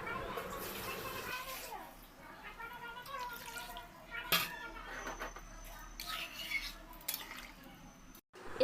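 Water is poured into meat curry cooking in a pot, a brief close splashing gush followed by light dripping and pot clatter, with a person talking over it.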